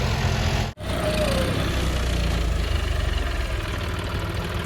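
A new John Deere tractor engine idles as it warms up, a steady low diesel drone running throughout, cut by one brief dropout near the start before resuming unchanged.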